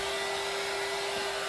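A heat gun blows hot air to dry paint on a bucket, giving a constant, close whooshing hum with a steady motor tone and no pauses.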